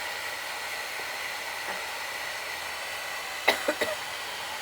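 A hair blower drying a small pet after its bath gives a steady, even airy hiss that holds unbroken, with a few brief knocks and clicks near the end.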